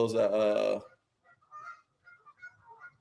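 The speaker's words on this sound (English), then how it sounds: "I believe those are geese, either geese or ducks" A brief voice is followed by scattered, distant honks from geese, faint and irregular, coming from outside.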